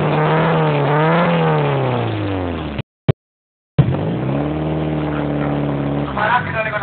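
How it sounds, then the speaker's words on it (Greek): A race car engine at a Greek drag event revs hard before a burnout, harmonic tones climbing and falling, cutting out briefly, then holding a loud steady high-rev drone close by. "θα κάνεις burnout. Χωρίς burnout, κύριε."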